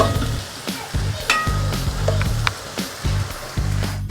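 Chicken pieces tumble into a pan of hot spiced masala with chilli and coriander powder, hissing and sizzling loudly up close while a spoon scrapes and stirs in regular bursts.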